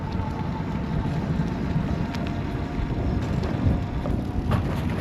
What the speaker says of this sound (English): It's starting to get windy already now.